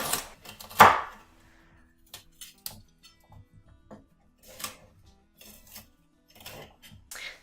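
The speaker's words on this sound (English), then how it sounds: "So to cut the cauliflower, I basically do the same thing as with the broccoli, and you're going to want to make sure that the pieces are pretty small." A knife chops cauliflower into small pieces on a cutting board, with sharp, irregular taps and knocks, one louder strike early on, then scattered lighter cuts with short pauses between.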